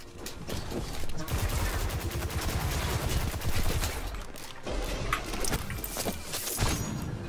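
Sustained rapid gunfire in the shooter video game Destiny 2, dense volleys of shots running almost continuously with brief breaks, loud and busy, with a voice occasionally shouting over the action.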